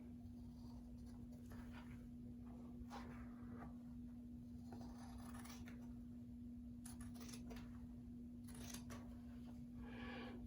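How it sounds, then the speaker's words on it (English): Very sharp scissors cut along the edge of a fairly thin piece of leather for a rifle stock wrap, with faint irregular snips and crisp clicks over a steady low electrical hum, no talking. "now I'll just cut this piece. Use a very sharp scissors."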